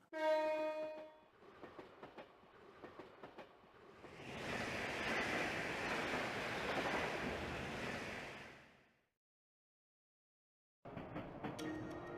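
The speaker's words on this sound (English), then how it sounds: "It is a train from the Empire." An Empire train in the video game Ao no Kiseki rushes past with a broad, loud roar that swells for several seconds, then cuts off. Game music and tones play before and after it.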